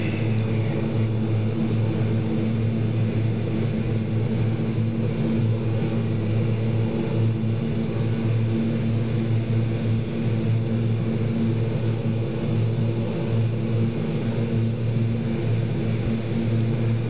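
Steady, loud drone of the twin propeller engines of a King Air B200 running at full RPM in a flight simulator, a constant hum with a strong low tone that holds unchanged throughout.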